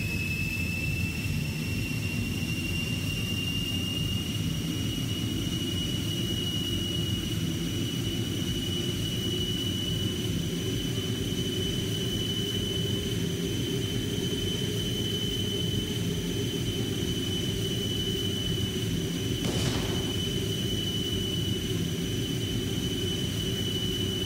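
A fighter jet in an Android aeroplane simulator game roars as a steady, unbroken engine drone with a high whine layered on top, heard alone and continuous throughout.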